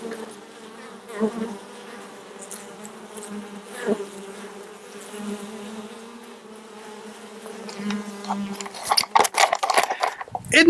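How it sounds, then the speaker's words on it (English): Honey bees hum continuously at a hive entrance as they fly in and out, some passing close with louder buzzing swells, ending in a few sharp clicks and knocks. "be mesmerized by all these bees flying in and out"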